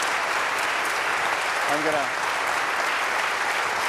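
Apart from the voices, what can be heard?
audience applause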